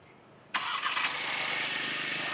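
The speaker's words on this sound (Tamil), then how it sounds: "இது டிப்பிக்கலி ஒரு பெட்ரோல் இன்ஜின் ஸ்டார்ட் பண்ணுற ஸ்டைலில் இருக்குது" Petrol engine of a 2025 Skoda Kodiaq cranking and catching with a sharp start, then settling into a steady, close idle.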